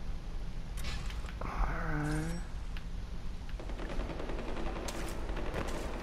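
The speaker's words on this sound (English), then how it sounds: "God, so much gunfire around here these days." Gunfire in the Far Cry 4 video game crackles in scattered bursts, with a rising tonal sweep partway through and sharp shots near the end over a steady background.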